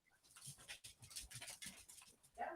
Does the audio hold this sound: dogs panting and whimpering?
yes